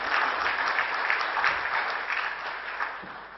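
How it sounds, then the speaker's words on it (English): A hall audience applauds the Consul General of India, Mr. Sanjay Verma, at an evening panel session on the India Budget 2013 and its Middle East impact; dense, steady clapping fills the room without a break for several seconds. "Please give him a big round of applause."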